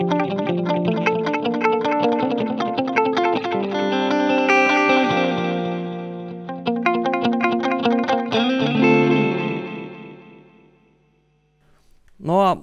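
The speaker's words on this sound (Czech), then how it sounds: "Do presetu 3 jsem si uložil krátký slabek echo, dal jsem trošku delší ten čas toho zpoždění" Notes played through a TC Electronic Flashback Triple Delay pedal set to a short slapback echo, with dense repeating tones that trail off, fall quiet, then a final swelling note at the end.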